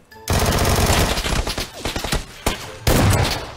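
Shotgun fire at close range in PUBG on the desert map: loud, booming blasts in quick bursts with short pauses between them, and no talk over the shots.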